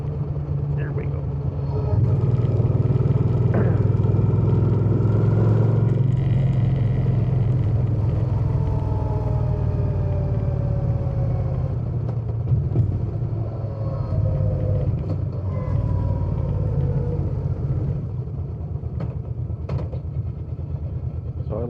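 A 2013 Suzuki Boulevard M50 motorcycle cruises along with a steady low engine rumble buried under heavy, continuous wind buffeting, while the rider talks over it.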